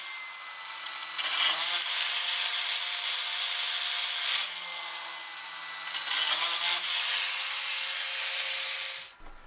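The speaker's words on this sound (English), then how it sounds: "Then I just need to carefully saw my way along each of those lines." Steady back-and-forth hand sawing through thin sheet metal, a continuous rasping broken by a brief pause midway, close and fairly loud before stopping abruptly.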